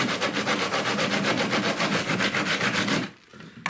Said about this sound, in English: This is a piece of sandpaper I wrapped around a PVC pipe to do some curves on a kayak